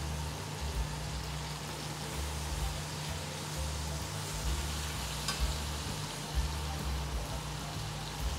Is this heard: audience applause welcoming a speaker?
no